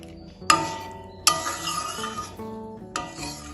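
A spoon clinks and scrapes against a pan while potol posto curry with water, salt and turmeric gets mixed, with several sharp metallic knocks spaced through otherwise quiet stirring.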